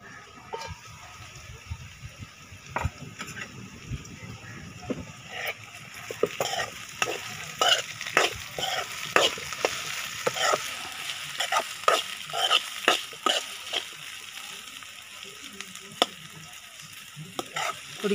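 Raw banana curry cooking in a pan after being covered, a soft constant sizzle broken by frequent spatula scrapes and clicks in an uneven rhythm, close up and without talk.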